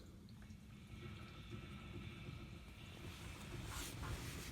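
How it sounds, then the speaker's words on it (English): Water overflowing from a house tank splashes into a second tank, a faint steady trickle and rush under low wind noise outdoors. "You can even hear it spilling over into the other tank."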